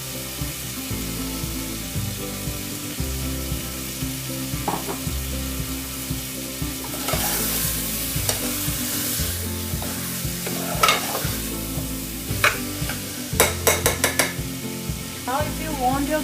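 Punjabi chole gravy cooking in a pan, stirred with a utensil. A steady low bubbling sizzle runs throughout, broken by scraping stirs and a few sharp clinks against the pan near the end.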